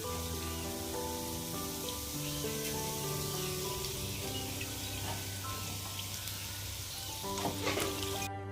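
Jackfruit fritters frying in hot oil give a steady, dense sizzle throughout, with a few brief clinks near the end and music-like tonal lines running underneath.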